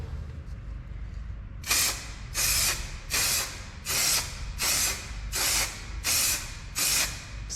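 Eight spray-paint bursts apply a first coat to a VW Sharan headlight washer cap, each hiss lasting about half a second in a steady, evenly spaced rhythm over a low background hum.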